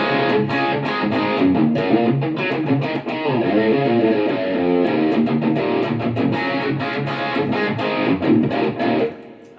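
Heavily distorted electric guitar, a Fender Player Stratocaster SSH through a BOSS GT-10 with only distortion and reverb, playing chords and riffs drenched in reverb, loud and continuous throughout.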